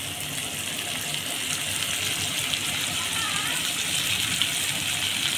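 Small fish frying in hot oil in a Bengali home kitchen, a steady close sizzling hiss throughout with no clear speech.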